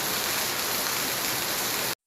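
Steady rain pours in an animated cartoon, a dense, even hiss with no other sound, running unbroken for about two seconds before cutting off abruptly into silence.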